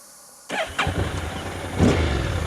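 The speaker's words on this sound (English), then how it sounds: "I start moto, change gear alone. You listen to the engine." A Honda NC750 motorcycle with the DCT automatic gearbox starts up at 0.5 s, its engine rising in a couple of short revs and then settling into a steady, fairly loud nearby idle.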